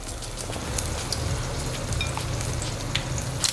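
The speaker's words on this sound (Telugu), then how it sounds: "ఇప్పుడు మనం మీడియం ఫ్లేమ్లో పెట్టుకొని బజ్జీల్ని 1 మినిట్ తర్వాత అటు ఇటు తిప్పుకుంటూ వేయించుకోండి" Mirchi bajji, battered chili fritters, deep-frying in hot oil over a medium flame, giving a close, steady sizzle with dense crackling pops and occasional sharper spits, continuous with no talking.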